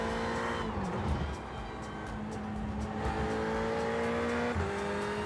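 A race car engine in the iRacing sim holds a steady drone, with pitch dips and shifts and a brief rough disturbance near the start, loud and continuous throughout.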